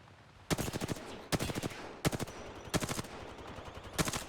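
Rapid automatic gunfire in the Apex Legends video game, five loud close bursts of quick rattling shots separated by short pauses, with no talking.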